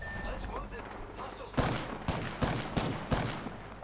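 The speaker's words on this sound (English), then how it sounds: "I hear shooting" Video game gunfire: several sharp, loud shots crack out at uneven intervals over a low rumbling background of ambient game noise.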